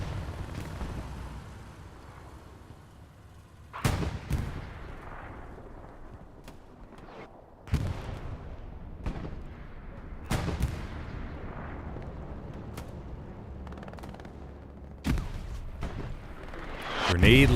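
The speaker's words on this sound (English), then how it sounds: "Artillery shell falls to the back, takes out a couple blueberries" Artillery shells land during a competitive 49-versus-49 match of the World War II shooter Hell Let Loose on the Pierre's Farm map, several sharp heavy booms spaced a few seconds apart with rumbling tails, over steady battlefield noise and occasional talk.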